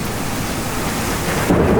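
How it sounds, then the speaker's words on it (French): A violent thunderstorm over Lake Ohrid in North Macedonia, with hail reported: thunder rumbles through a dense, steady roar of heavy rain. A louder burst of rain and impacts comes near the end. No voices are heard. "J'ai jamais vu une tempête comme ça."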